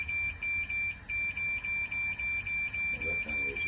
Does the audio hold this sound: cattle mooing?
no